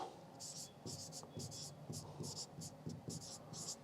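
Marker or chalk strokes on a board in a history class, a steady rhythm of short scratchy bursts, close and fairly clear, with no talk over them.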